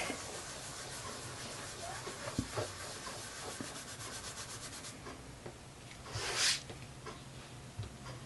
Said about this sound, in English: I'm going to flip him over and just rub the back.